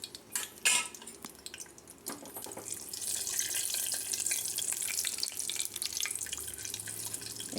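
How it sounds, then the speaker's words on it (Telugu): Cashews fry in hot ghee for carrot halwa, opening with a few light clicks and clinks before settling into a steady, bright sizzle that holds to the end. It sounds close, with no voices. "ఇప్పుడు మనం కాజు ఫ్రై చేసుకుందాము ఈ నెయ్యిలో"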